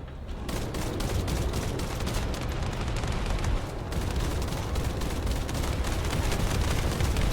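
Rapid sustained gunfire in the shooter The First Descendant, a dense continuous crackle of shots and impacts, loud and unbroken across the whole stretch with no speech.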